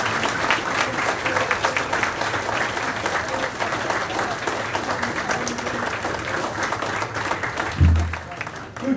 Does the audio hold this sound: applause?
yes